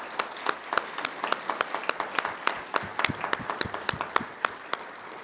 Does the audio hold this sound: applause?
yes